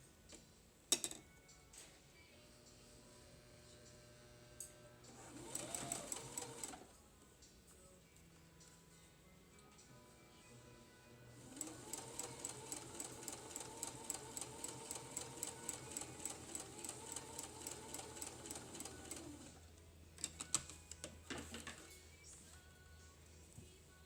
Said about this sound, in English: then you take it to the machine, you sew it the same way, close to the edge